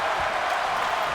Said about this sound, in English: Loud crowd tonight.